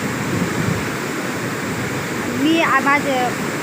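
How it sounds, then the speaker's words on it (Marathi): A river running very full, with water high on both sides, gives a steady broad rush that fills the whole clip, and a voice briefly rises over it near the end. "हे बघा आता पाणी आहे नदीला खूप भरपूर पाणी इकडलं साईडने पण आणि दुसऱ्या साईडने पण बघा"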